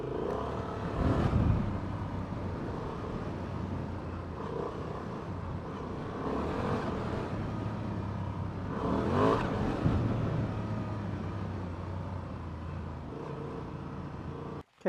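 A 2024 Honda Transalp 750 motorcycle runs steadily close by for the whole stretch, its engine drone rising in a couple of brief revving surges, with wind and road rumble mixed in before it cuts off abruptly at the end.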